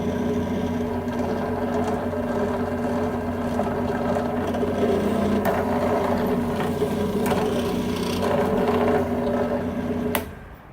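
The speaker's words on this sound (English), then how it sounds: "Here we're going to drill the hole for the power box to connect to with the bolt" A drill bores a 5/32 hole for a mounting bolt, a steady loud whirring hum that runs evenly for about ten seconds and then stops abruptly.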